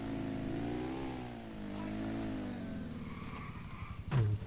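Motorcycle engine in GTA Vice City, revving with rising and falling pitch as it accelerates, fairly loud and continuous, ending in a few choppy bursts and a thump.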